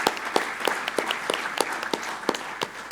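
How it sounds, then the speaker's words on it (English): Audience applause at a conference session on rebuilding nations after a speaker, Dr. Sarah Hill. Scattered, separate claps come at an uneven pace and stay fairly soft across this short stretch. "So another round of applause, please, for Dr."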